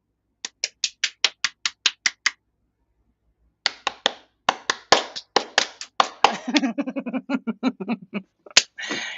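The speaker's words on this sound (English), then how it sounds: "You're good at clapping." Crisp hand claps ring out close and dry: a quick even run of about ten, a brief pause, then a longer burst of faster, overlapping claps that gets denser toward the end.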